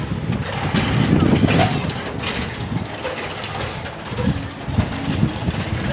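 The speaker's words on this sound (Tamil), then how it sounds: "அடுத்தது ஃபேமிலி ட்ரெயின் இருக்கு அதில் போகலாம்" A small family ride train at a water theme park in Coimbatore rumbles along steadily with a rattling clatter, voices and crowd noise mixed in around it.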